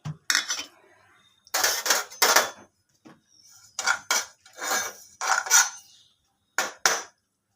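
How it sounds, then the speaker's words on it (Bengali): Sesame seeds dry-roasting in a wooden-handled pan bring close, crisp clinks and scrapes of stirring, coming in short separate bursts with quiet gaps between them. "তিলগুলো আগে ভেজে নিচ্ছি কাঠকলায়"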